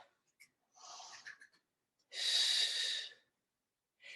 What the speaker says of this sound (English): Nice big breath.